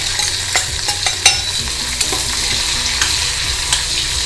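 Bay leaf, black pepper, cumin and a small chopped onion frying in hot oil for chole, a steady close sizzle broken by a few sharp clinks and scrapes of a spoon stirring the pan.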